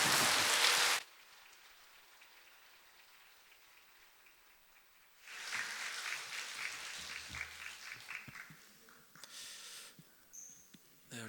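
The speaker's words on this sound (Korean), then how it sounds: "우리 다시 한번 김은미 집사님에게 격려의 박수 보내드리도록 하겠습니다" Applause from a church congregation at an evangelism team gathering, a loud burst at the very start, then a quiet stretch, then a steadier round of clapping that returns and fades toward the end.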